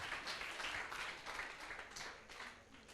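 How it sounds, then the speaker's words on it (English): Applause from a full conference room of attendees at a tech community event, a steady wash of many hands clapping at moderate distance, continuous for a few seconds and gradually thinning toward the end. "a round of applause to all of us"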